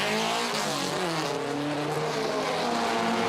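A racing car pulls out of the pit lane at Goodwood during a two-driver race, its engine roaring loud and steady with rising and shifting harmonics, no talk over it.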